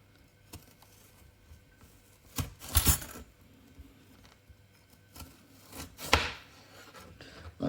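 Knife cutting carrots into batons on a wooden board, a few sharp chopping thuds and scraping slices, close and sparse with quiet gaps between cuts.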